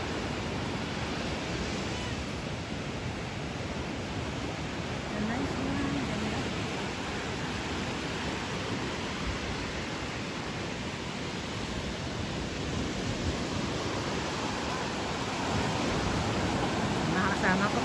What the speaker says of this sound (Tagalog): ang lakas din ng alon